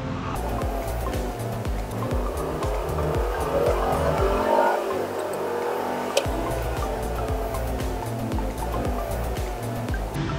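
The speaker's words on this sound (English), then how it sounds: "As you can see, this car's acceleration is quite poor" A Mercedes E250 W212 with a turbocharger underboost fault (P0299) accelerates sluggishly, its engine droning steadily with road and tire noise for about ten seconds and no talking.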